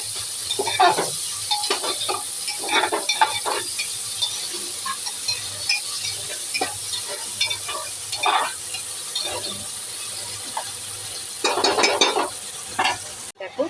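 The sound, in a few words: onions frying and being stirred in a pan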